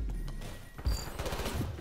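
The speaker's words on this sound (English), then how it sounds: "You shoot through the wall." Gunfire during a video game gunfight, shots firing through a wall as a dense, rapid burst of bangs that swells and fades within a couple of seconds, heavy and close.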